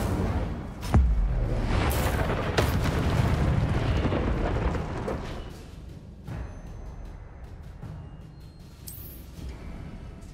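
Incendio fire spell from Hogwarts Legacy going off with a loud fiery burst and roaring blast, followed by crackling flames and further sharp impacts that fade into a quieter rumbling tail.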